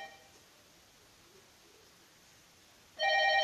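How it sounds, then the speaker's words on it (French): A telephone on an Ivorian commentator's livestream starts to ring near the end, a loud harmonic electronic tone breaking in suddenly over a quiet room hiss. "C'est le téléphone qui sonne."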